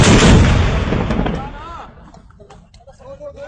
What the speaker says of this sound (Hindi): okay motor fire